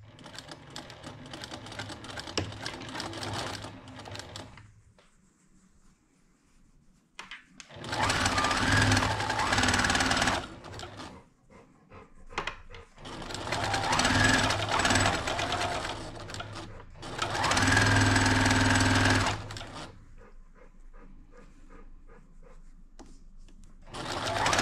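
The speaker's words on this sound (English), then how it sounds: "take it over to the sewing machine and just do a straight stitch down this direction" A sewing machine runs a straight stitch in several bursts of steady, rapid whirring and clattering. Quieter pauses with faint handling noises separate the bursts, and no one speaks.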